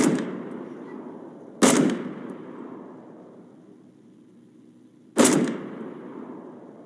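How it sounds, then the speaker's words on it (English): Three sharp gunshots from a multiplayer online shooter game crack out at irregular intervals, each followed by a long booming echo that trails off, loud and close with no talking. "I want to know who's shooting at me."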